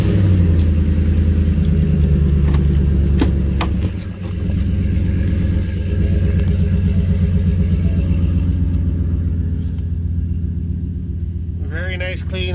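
A 2010 Ford F-150 engine idles in a steady, loud low rumble after a remote start, continuing throughout with a brief dip partway and a person talking faintly near the end.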